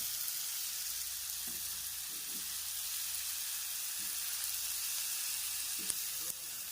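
Chicken pieces frying in a little oil on a tawa for chicken tawa chilli fry, a steady bright sizzle with occasional faint stirring clinks, moderately quiet and continuous without speech.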